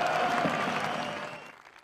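A crowd of more than 10,000 people at a right-wing populist political rally cheers and applauds a speaker, loud and dense at first, then thinning and fading over the last half second.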